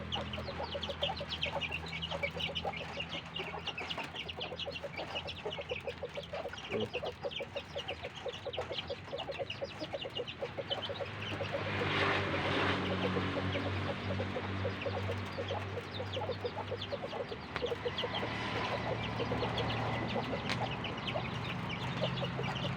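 Chickens cluck and call continuously near a farm garden, a steady overlapping flock chatter with occasional louder squawks and no talking.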